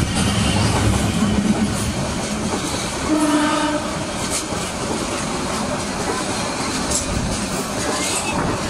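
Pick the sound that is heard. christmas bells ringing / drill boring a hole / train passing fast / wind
train passing fast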